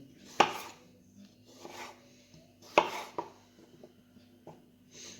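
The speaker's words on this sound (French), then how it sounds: "venir couper un petit cube de chaque pomme de terre et le couper en deux" A knife cutting potatoes into small cubes and halving them on a board, with two sharp loud chops and several softer taps and scrapes between them, heard close up with no talking.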